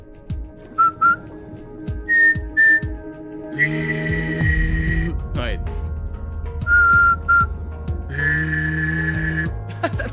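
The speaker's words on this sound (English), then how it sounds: "Try making that noise and whistling at the same time" A person whistles close up, first in short chirpy bursts and then in longer held tones with a wavering, vibrato-like quality, mixed with a low gravelly vocal growl under the whistle. A brief spoken word is heard.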